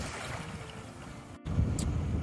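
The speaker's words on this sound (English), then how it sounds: "the waves are a little high, the water's a little choppy" Choppy waves slap and wash around a kayak out on open water, a faint, restless churn mixed with wind buffeting the microphone.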